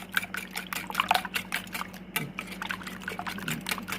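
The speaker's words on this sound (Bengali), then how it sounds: "এখন এটাকে আমি ভালো করে ফেটে নেব এভাবে।" Banana pizza batter with sugar is whisked in a bowl, giving a quick rhythmic wet tapping and sloshing, close and moderately loud, with no talking.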